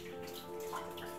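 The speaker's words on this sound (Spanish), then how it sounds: "podemos escuchar el continuo sonido del agua, el goteo" Continuous water running and dripping inside an artificial cave built as hydraulic engineering in Montserrat, Barcelona, a steady wet wash with faint drips, low and even throughout.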